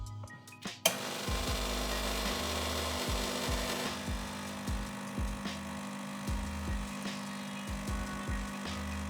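A DF83 flat-burr coffee grinder starts with a click, then grinds in a steady, loud motor whir with rhythmic low pulsing throughout.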